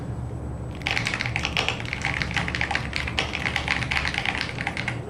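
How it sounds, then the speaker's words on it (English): Rapid, steady typing on a computer keyboard, a dense run of close, crisp key clicks continuing without pause, no talking. "The typing picks up still."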